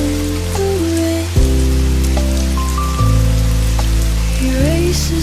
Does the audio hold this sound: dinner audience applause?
no